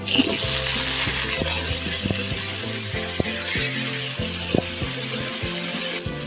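Potatoes sizzle and fry in a pan, a steady close hiss running throughout with faint clicks and scraping in the background.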